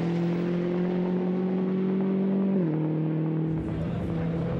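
A Volkswagen Scirocco race car with a natural gas engine runs in the 24-hour race at the Nürburgring, a loud, steady engine drone whose pitch drops once partway through and then holds.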